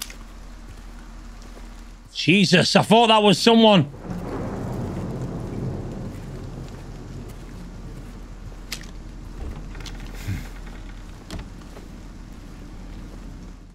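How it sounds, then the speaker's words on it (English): Rain falls in the Silent Hill 2 Remake video game as a steady, soft hiss with occasional faint thumps, continuing after someone speaks briefly near the start. "That's rain."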